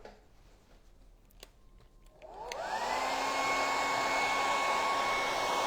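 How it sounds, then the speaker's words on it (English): A hair dryer switches on after a few faint clicks and then blows steadily with a loud, constant whine, drying stencil paint on a sign. "I'll just hit that with the dryer"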